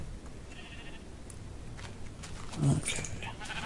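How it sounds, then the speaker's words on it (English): Sheep in the Minecraft video game bleat in a short, mid-loud cry rising out of a quiet background of faint game ambience. "So many sheep that I can just take."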